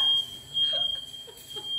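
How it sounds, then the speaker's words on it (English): A smoke alarm, set off by a fog machine at a Halloween party, emits a continuous high-pitched electronic tone, steady throughout, with faint scattered noises beneath it. "Nobody warned me that fog machines set the smoke alarm off."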